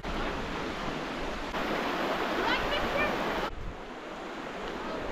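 Fast, swollen river running muddy brown after a flash flood, a steady loud broadband rush of water close by that fills the whole stretch, with a brief shift in tone partway through.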